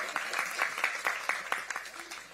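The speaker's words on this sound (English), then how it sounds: "Let's give another round of applause for our moderator and our panelists" Scattered audience applause for a moderator and panelists at a PSA premiere event, a handful of distinct claps in loose rhythm, fairly faint and thinning out toward the end.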